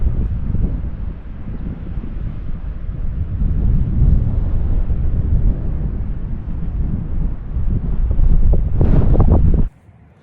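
Strong storm wind roars across a wild camp during 50mph gusts, buffeting loudly and continuously up close with low rumbling surges and flapping, then cutting off abruptly near the end.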